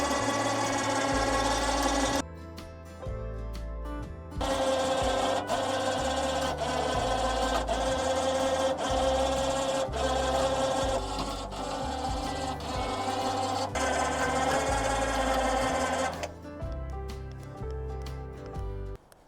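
A Rhino electric winch mounted on a Suzuki Samurai runs with a loud, grinding mechanical whine. It cuts out briefly, starts up again, and stops near the end.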